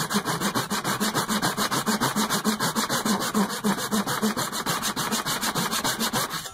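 A Japanese pull saw cuts through wood in a steady, rapid rhythm of close, loud rasping strokes, with no talk over it.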